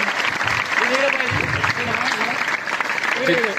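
An audience at a farewell function claps to welcome an arriving guest, a dense, steady applause that runs throughout, mixed with a faint tonal voice or singing in the background.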